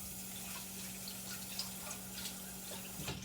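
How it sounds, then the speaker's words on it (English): A kitchen faucet runs steadily while a plate is rinsed under it, giving a soft continuous water hiss with faint splashes and clinks, and no one speaks. "Let me rinse out my plate."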